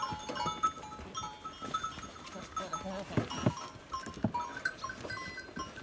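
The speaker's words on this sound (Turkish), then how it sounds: "Kuzucuğumuz bu." Sheep and lambs bleat in short cries amid a busy village farmyard in the morning, with faint voices and rustling in the background.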